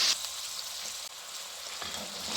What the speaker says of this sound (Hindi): तो ऐसे फ्राई करके 2 मिनट इसको और फ्राई करेंगे